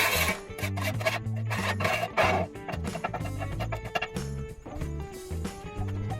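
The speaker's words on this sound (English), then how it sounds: "it's nice to have a little scraper because we'll just give it a scrape" A metal scraper rasps across a Blackstone griddle in rhythmic, repeated strokes. The scraping is close and steady, with no one talking over it.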